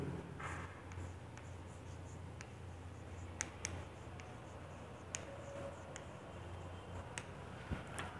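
Chalk or marker writes on a classroom board, producing faint scratchy strokes and a few soft taps against a quiet room hum, with no talking.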